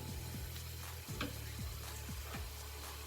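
Thin strips of beef frying in a pan with julienned vegetables, a steady close sizzle with low, regular stirring scrapes repeating throughout.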